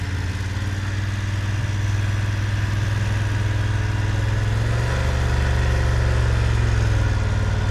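Motorcycle engine held at low revs during a slow-speed U-turn drill, a steady close idling rumble with a slight rise and fall as the clutch is feathered, no voices.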